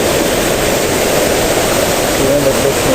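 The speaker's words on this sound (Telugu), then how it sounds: "మొత్తం వాటరే, ఎక్కడ చూసినా వాటరే, పెద్ద వాటర్" A large body of water in the Medak district area where people are swimming, heard as a loud, dense, constant wash of water noise without clear individual splashes.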